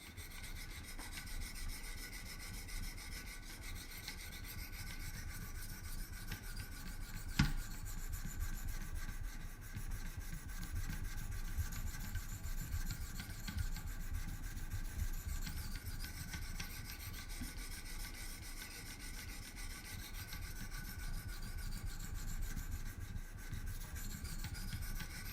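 A Great Eastern Cutlery traditional knife blade is sharpened on a Wicked Edge sharpener, with steady repeated raspy stone strokes against the steel, close and fairly quiet, and a single sharp click partway through.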